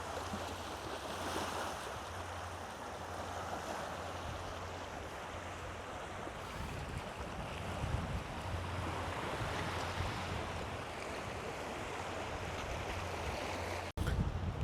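Sea waves washing on an island shore, a continuous broad surf roar with gusts of wind buffeting the microphone, fairly close and steady, ending in a brief dropout.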